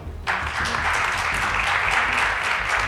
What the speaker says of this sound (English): Let's give them a round of applause as they come to the stage.